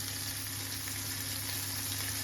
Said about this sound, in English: So while your beef's frying or cooking